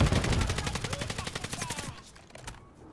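Gunfire in a video game shooter, a rapid burst of automatic shots for about two seconds that cuts off, followed by a few scattered fainter shots.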